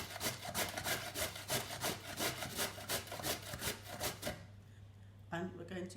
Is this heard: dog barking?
no